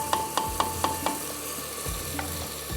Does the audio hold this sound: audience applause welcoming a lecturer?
no